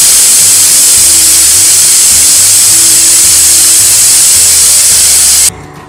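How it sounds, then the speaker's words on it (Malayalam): A pressure cooker with green gram inside lets out one long, loud, steady steam whistle that hisses continuously for several seconds before cutting off abruptly, leaving a quieter background. "ഒരു 4-5 വിസിൽ ഞാൻ കേൾപ്പിക്കുന്നുണ്ട്."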